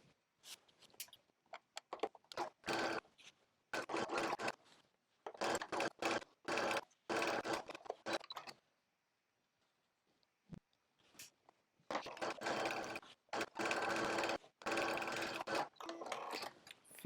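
A sewing machine stitching the sleeve seams of a coat or jacket, running in several short bursts of a few seconds each with pauses between, close and fairly quiet with no talking.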